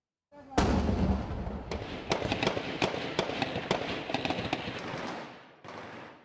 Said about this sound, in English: Explosions and gunshots heard at the Indian consulate in the Afghan city of Mazar-e-Sharif.